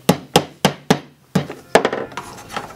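A hammer strikes wood while a small wooden catapult is built: four sharp evenly spaced whacks, a pause, then more blows trailing into scraping and rubbing, close and loud with no talk.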